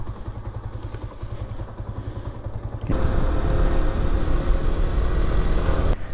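A motorcycle engine idles nearby, then revs up and holds a louder, steady drone as the bike pulls away at the start of a ride toward Tagaytay.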